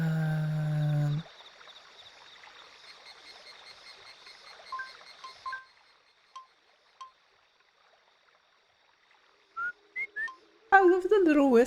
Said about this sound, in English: I love the little whistle that they go.